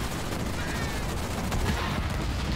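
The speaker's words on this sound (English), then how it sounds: "I'm receiving fire from enemy ground troops." Gunfire from enemy ground troops in Halo Wars 2, a dense steady crackle of rapid shots over a noisy battle bed, continuous and fairly loud for the whole stretch.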